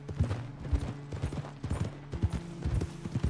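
Horse hooves clip-clopping at a steady trot in the Red Dead Redemption video game, a continuous rhythmic pattern of close thuds over a low rumble, with no talk.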